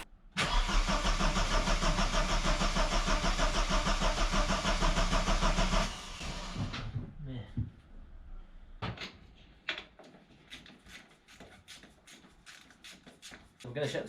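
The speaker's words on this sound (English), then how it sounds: "there was now the challenge of getting it started for the first time in years" A Vauxhall Cavalier that has sat unused for years cranks loudly for several seconds, then cuts off, leaving scattered clicks, knocks and handling noises from around the car.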